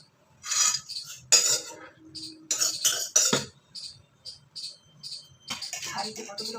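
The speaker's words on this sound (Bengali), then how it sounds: "এবার আমি এটা রাইসের মধ্যে দিয়ে নেড়ে দেবো।" A utensil stirs cashews into rice in a pot, with bursts of metallic scraping and clinking close by, broken by pauses and some talk.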